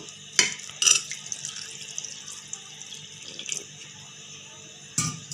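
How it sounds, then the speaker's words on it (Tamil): Water is poured into mudakathan dosa batter with onion and mixed in, giving faint trickling and splashing with a few louder sloshes spread across the stretch. "நம்ம தண்ணி ஊற்றி நல்லா கரைச்சிக்கலாம்."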